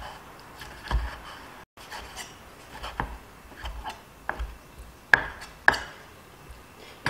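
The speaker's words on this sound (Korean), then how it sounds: "채썬 참치는 다시 모아서 썰어줍니다" A knife chops strips of raw tuna on a cutting board for tuna tartare, quiet irregular taps with a few sharper cuts, close and unaccompanied by speech.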